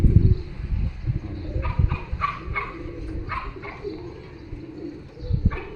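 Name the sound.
pigeons cooing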